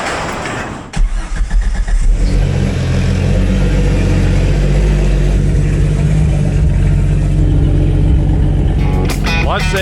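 A Jeep crawls along in low-range gear, its engine giving a steady, loud, close drone after a brief thump at the start, with a faint rattle near the end.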